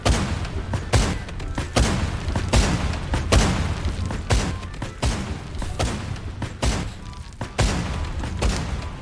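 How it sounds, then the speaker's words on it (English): Artillery fire in the video game Mortal Online 2: a loud, irregular series of heavy booms and thuds, each blast landing close and punchy in quick succession. "it's a good artillery, that's for sure"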